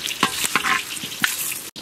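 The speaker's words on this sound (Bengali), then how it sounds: "ওই তেলের উপরই আমরা ফোড়ন দেবো আলু ফুলকপি তরকারি" Whole spices such as bay leaf, whole cumin and dried chillies hitting hot oil left from frying vetki fish, for a potato and cauliflower curry: a busy crackling sizzle with sharp pops and stirring scrapes, close and fairly loud.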